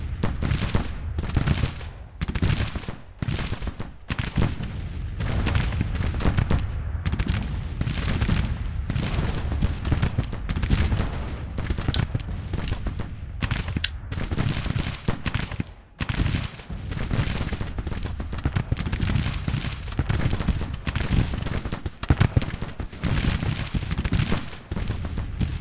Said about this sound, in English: My batteries are doing what they're supposed to this battle and actually firing at their batteries